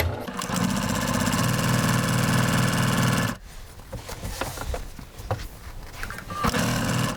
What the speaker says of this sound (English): I'm just going to sew 1/4 inch all the way down